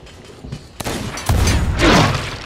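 Gunfire in the pirate video game Sea of Thieves as a shot strikes an enemy, a sharp crack followed by louder booming blasts and noisy game action over about two seconds.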